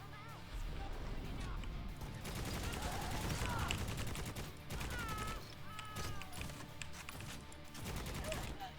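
Plasma rifle fire in Necromunda: Hired Gun, a dense, sustained fusillade of rapid shots with crackling impacts that continues loudly throughout while a player talks over it.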